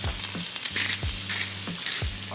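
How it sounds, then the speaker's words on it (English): Steady, close sizzling of glass noodles being stir-fried for pancit in a hot pan, with periodic scraping stir sounds and no talking. "There's a little splash. Oh, sizzle, good."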